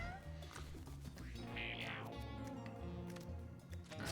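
Cartoonish cat meows from the video game Mewgenics play over busy game music, with one clear rising-and-falling mew in the middle of a steady, dense mix.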